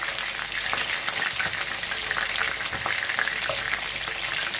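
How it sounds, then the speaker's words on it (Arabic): Chicken wings fry in hot oil, a dense, steady sizzle and crackle that continues throughout without pause or speech. "نخليهم يتخلاو حتى يتحمروا مليح"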